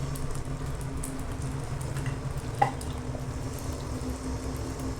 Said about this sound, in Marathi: ती थिक होईपर्यंत थोडीशी उकळून घ्यायची